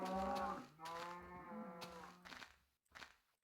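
Cows in the Minecraft video game moo in long, drawn-out calls, one after another, loud and close, with a short quieter bellow near the end.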